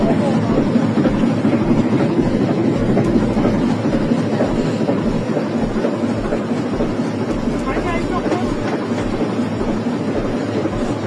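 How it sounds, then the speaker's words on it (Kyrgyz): A train runs along the railway in a steady, loud rumble with rhythmic clicking that lasts throughout, while people talk over it. "Поезду ушул токтотуп койду окшойт."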